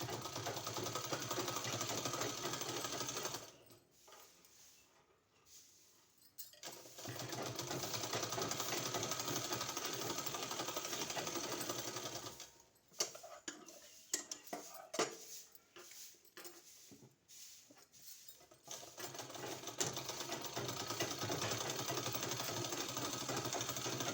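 Sewing machine stitching a decorative design onto a garment sleeve, running in long steady bursts with a couple of short pauses and choppy stop-start stitching in the middle, no talking.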